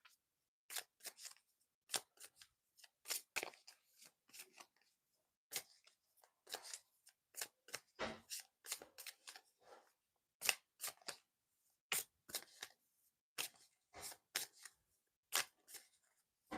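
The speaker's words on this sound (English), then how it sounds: "Let me get another oracle card." Oracle cards being shuffled and drawn by hand, with sparse, close, crisp flicks and snaps arriving in irregular bursts separated by near silence, with no voices.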